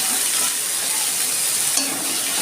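Chopped onion fries in a pan with cumin seeds, giving a dense, even, close hiss of sizzling oil that holds steady throughout.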